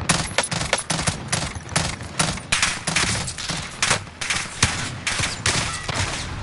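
Rapid volleys of gunfire aimed at the player in a video game, sharp close shots arriving in quick irregular bursts, one after another, loud and with no talking.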